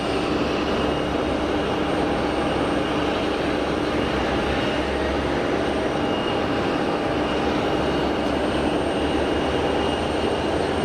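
Steady broad roar of an easyJet Airbus A320 airliner arriving from Cagliari at Geneva Airport on a hot day, loud and unbroken throughout with no voices.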